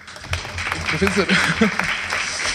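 Applause from an audience at an academic symposium honoring a professor, a broad steady patter of clapping running under a voice speaking.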